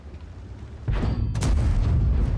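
Tank cannon fire in a tank video game: a sudden heavy boom around the one-second mark, followed by a second sharp blast, both loud and close, with rumbling aftermath and no talking.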